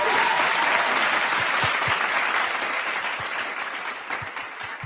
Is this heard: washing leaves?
no